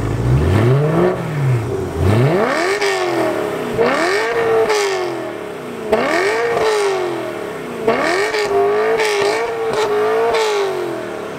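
A stock 4-liter V8 in an E92 BMW M3 revs repeatedly toward its 8,500 RPM limit, rising to a high scream and dropping back, loud and close, with several quick blips near the end.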